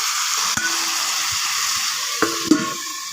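Chili powder being stirred into a hot frying pan for a potato and dried fish curry, a steady soft sizzle with a few spoon clinks and scrapes against the pan.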